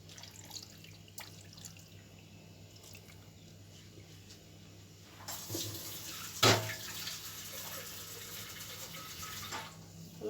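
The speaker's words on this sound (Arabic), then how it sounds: "ازودها كده يا بنات كده مقدار الميه المناسب بتاعها" Water being poured into a tagine with tomato sauce while cooking, a steady soft trickling and splashing that grows fuller midway, with a brief sharp clink near the middle, fairly close.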